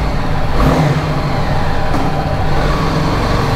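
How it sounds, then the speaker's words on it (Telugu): A BMW G 310 GS motorcycle engine runs and revs loudly just after a cold start, a close, continuous mid-pitched engine drone with a brief rise in revs and no talking. "బైక్ ఇప్పుడు ఇంకా కోల్డ్ స్టార్ట్ కూడా వేసేసిన."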